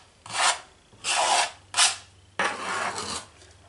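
Scraping strokes across the sides of a birchwood photo canvas, four rasping passes of varying length, close and fairly loud with short pauses between, no talking.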